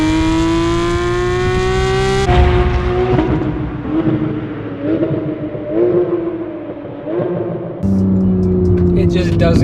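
Porsche 911 GT3 with a Fabspeed exhaust driving hard, its engine howling loudly through rising revs, a sharp gear change, and repeated pulls with harmonic whine, close and dominant, with a person talking over it.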